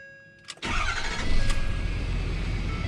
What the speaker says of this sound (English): Here's the trick to getting your truck to start after this.